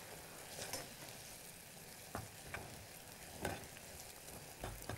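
Ema datshi, the Bhutanese chili and cheese dish, sizzles and fries in a pan with soft scraping stirs now and then, a quiet steady crackle with no talk.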